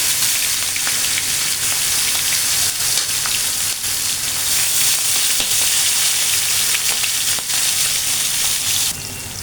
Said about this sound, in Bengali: বেগুন ভাজাটায়